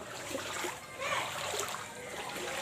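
Someone wades and splashes through street flood water after heavy rain. The sloshing is a continuous, fairly soft wash close by.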